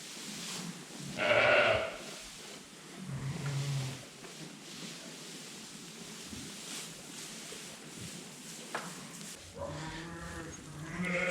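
Sheep bleating in a sheepfold during lambing, with several separate bleats near and farther off, scattered across the clip over quiet barn noise.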